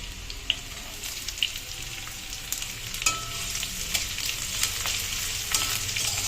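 Garlic frying in oil, a dense continuous sizzle and crackle with light spatula scrapes and small pops, close and steady throughout, with no talking.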